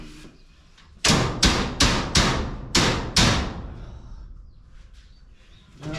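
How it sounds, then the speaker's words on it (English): A hammer strikes a bolt on a garage door six times in quick succession, sharp and close, with short ringing pauses between blows, then quiet. "Grab a hammer, tap that over."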